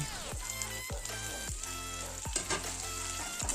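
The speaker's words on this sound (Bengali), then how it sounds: "ওই তেলে পাঁচফোড়ন, শুকনো লঙ্কা, তেজপাতা দিয়ে আলু, গাজর, সজনে ডাঁটা দিই।" Potato, carrot and drumstick frying in oil with panch phoron, dried red chillies and bay leaf make a continuous sizzle, broken by regular scraping strokes of a spatula about every half second, close and moderately loud with no talking.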